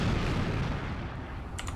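Gunfire in GTA 5 with a chaos mod: a heavy booming blast with a rumbling low tail, followed by two quick sharp cracks near the end.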